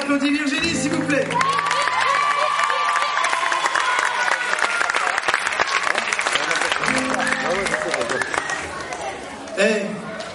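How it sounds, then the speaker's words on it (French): A crowd at a concert in Martigues applauds loudly and steadily, with whoops and cheers over the clapping, easing slightly near the end. "on applaudit Virginie, s'il vous plaît."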